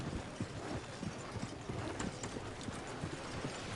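Horse hooves clip-clop steadily in a video game setting, a rhythmic run of close, soft thuds continuing throughout with a faint whinny-like tone and no talk over it.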